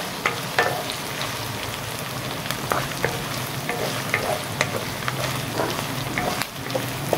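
A budget family dish being stirred with a ladle in a sizzling pot, a continuous frying hiss with frequent scraping and clinking strokes up close, no speech.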